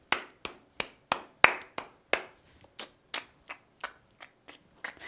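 A teacher claps a rhythm for students to echo in an elementary music class: a sequence of about fifteen sharp, close hand claps in an uneven pattern, with brief pauses, and no talking.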